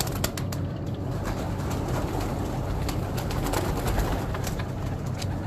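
Pigeons cooing steadily on a rooftop in Jaranwala, with several birds overlapping in soft repeated calls and occasional brief wing flutters, close and continuous with no talk.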